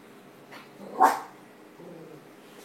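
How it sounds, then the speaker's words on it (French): A dog indoors gives one loud bark with a few softer yips around it, close by and heard alone in a quiet room. "Désolé pour le chien."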